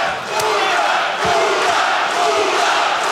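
Arena crowd at a Showtime kickboxing bout between Murat Direkçi and Robin van Roosmalen roars and cheers steadily, a dense loud wash of voices with scattered shouts.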